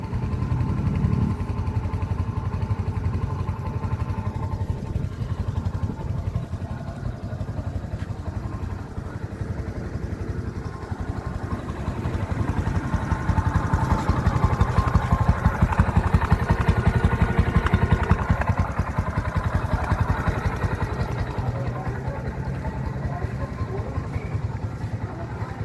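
A TVS tuk-tuk engine idles after cranking, a steady low mechanical chug with faint clatter running throughout, loud and close, with some voices over it.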